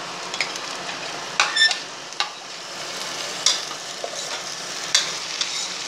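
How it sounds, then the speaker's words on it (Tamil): Slit green chillies and tomatoes go into a frying pan for Thalassery chicken dum biryani, giving a steady, moderate sizzle broken by a few sharp stirring scrapes and clinks. "சில்லி, 3 சில்லி கீறி வச்சுருக்கேன், அதை போடுறேன். அதுக்கப்புறம் தக்காளியும் போட்டுருவோம்."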